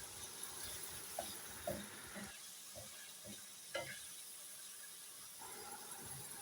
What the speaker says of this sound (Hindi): चिकन को आपने अच्छी तरह से फ्राई करना है, जब तक ये पहले वाइट ना हो जाए और फिर बाद में ये सुनहरी ना हो जाए।